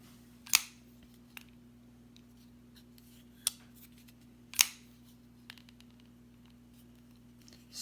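A few sharp, isolated metallic clicks, a folding knife's lock releasing with a slight stick, spaced apart over quiet room hum.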